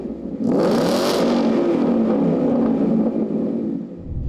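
An upgraded 2016 Ford Mustang GT V8, built toward 700 horsepower with a Ford Performance Track Handling Pack, blips sharply and then holds a loud, throaty rev nearby before dropping back toward idle.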